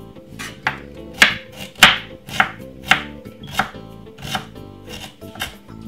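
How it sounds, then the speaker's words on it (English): Fresh ginger chopped finely with a knife on a cutting board, about a dozen crisp, close knocks in an uneven quick rhythm, with no voices. "Let's cut it up fine and small and put some ginger in there."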